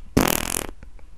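A single loud, raspy fart sound effect blares for about half a second, close and dominant, then trails into faint clicks.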